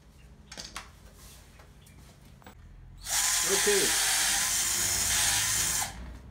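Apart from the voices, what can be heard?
power drill with masonry bit drilling hole in concrete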